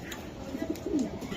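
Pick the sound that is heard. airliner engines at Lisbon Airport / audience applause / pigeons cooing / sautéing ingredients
pigeons cooing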